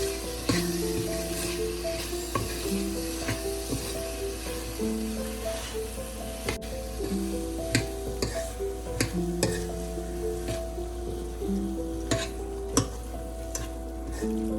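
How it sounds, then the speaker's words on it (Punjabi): Potatoes pan-roasting in spices for a Punjabi aloo gajar matar sabzi: a steady close sizzle with repeated stirring scrapes, set against background music. "ਹੁਣ ਅਸੀਂ ਆਲੂ ਪਾਵਾਂਗੇ ਪਹਿਲੇ ਇਹਨੂੰ 2 ਮਿੰਟ ਲਈ ਭੁੰਨਾਂਗੇ ਜੀ ਮਸਾਲੇ ਦੇ ਵਿੱਚ"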